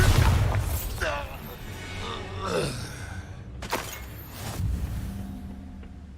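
A Bombarda spell in Hogwarts Legacy goes off as a sharp, booming blast amid a fight, with grunting and gasping voices around it.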